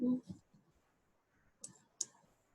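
Two sharp mouse clicks on a computer, made while opening a link to a Kahoot game, come close together near the end after a stretch of quiet speech.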